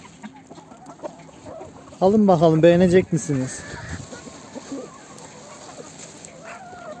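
Hens clucking while being fed popcorn, with a sudden loud burst of calls in the middle, while a person talks nearby.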